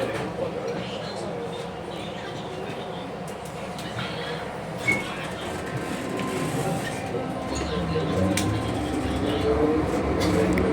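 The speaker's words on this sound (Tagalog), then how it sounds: "Please stand back from the train door." A train waits at a station platform, giving a steady rumbling hum with a faint clunk partway through. Station noise builds slightly toward the end.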